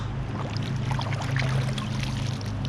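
A freshly caught trout from the Row River, Oregon, is rinsed and swished in water, giving a steady close splashing and trickling with a low rumble of flowing water throughout, no voices.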